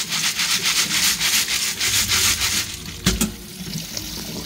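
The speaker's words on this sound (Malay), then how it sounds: "Okey, dah bersih, kita bilas dengan air." Freshwater snails are rinsed and rubbed together in water, making close, rough scraping and sloshing in repeated strokes, followed by a sharper knock and quieter trickling.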